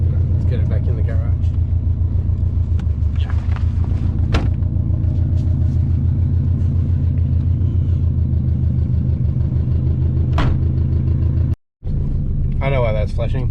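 A twin turbo Subaru Forester engine idling and creeping into a garage, a loud steady low rumble with rhythmic pulsing, a brief cutout near the end, and occasional clicks and knocks.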